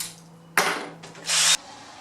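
A power drill boring a hinge pocket whirs in two brief bursts against a low electrical hum, close up and loud.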